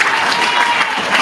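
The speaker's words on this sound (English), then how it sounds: "join me in clapping again" Steady applause from a graduation audience, dense and continuous clapping filling the room with no pauses, close and fairly loud throughout.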